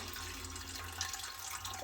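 Warm water, around 40 degrees, poured from a tap into a bread machine pan on a kitchen scale, a steady close rushing stream with a slight splash midway, no talking.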